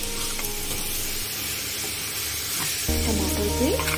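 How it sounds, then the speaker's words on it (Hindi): Turmeric and cumin powder sizzling as they roast in a hot pan, a steady close frying hiss throughout that swells a little louder near the end. "अब मैं इसको अच्छे से भून लूंगी"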